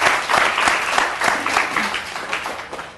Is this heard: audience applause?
yes